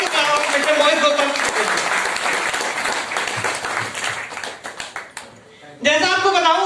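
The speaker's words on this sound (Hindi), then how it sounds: "उन सपनों को दोबारा से जगाने वाले शख्सियत के लिए एक जोरदार ताली होनी चाहिए" Loud audience applause and clapping fill a hall at a business event as a speaker is welcomed, dense and sustained for several seconds, briefly thinning before a short burst of voices and renewed noise near the end.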